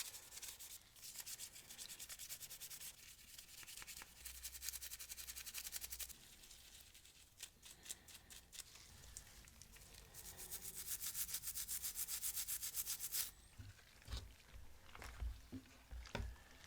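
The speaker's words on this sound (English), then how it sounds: "I switched to my toothbrush here because the makeup brush just wasn't getting it" Toothbrush scrubbing grime from Nintendo DS Lite parts, a close, faint bristly rasp in quick back-and-forth strokes that run in bursts with brief pauses.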